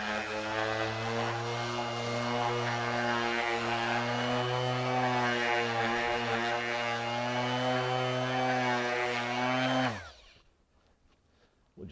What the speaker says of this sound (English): I happen to have my Metabo sander here.